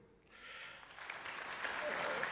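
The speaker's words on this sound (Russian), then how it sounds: "Да, это повод для аплодисментов" Concert hall audience at a symphony orchestra performance breaking into applause for the conductor, starting softly and swelling into a broad, sustained wash of clapping, with faint voices underneath.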